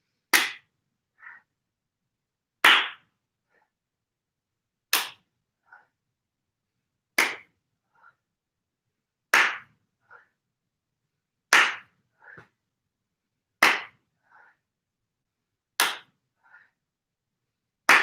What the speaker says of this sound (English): inhale, the hands will clap above the head